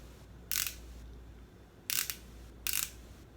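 Three sharp clicks from twisting a Maybelline Mastercamo color correcting pen, spaced about a second apart, close and crisp over a quiet room.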